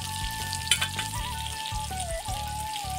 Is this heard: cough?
no